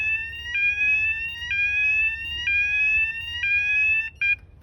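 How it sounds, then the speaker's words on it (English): A Ramtech WES3 alarm system sounds its full alarm tone: a loud, piercing electronic tone that repeats in steady one-second cycles, each rising slightly in pitch, then cuts off abruptly near the end with no talking. "So this is the full alarm tone."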